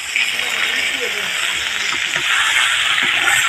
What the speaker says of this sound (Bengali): এই যে মাছ কিরম শব্দ করতেছে, চরচড়ি যে হয়েছে